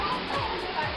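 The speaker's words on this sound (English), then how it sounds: "Oh, look, there's a waterfall." Waterfall inside an indoor tropical zoo house, a steady close rush of falling water with voices talking over it.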